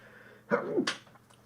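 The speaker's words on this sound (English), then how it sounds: "that was a sneeze" A single sharp sneeze, close and loud, with a quick intake then an explosive burst, followed by quiet.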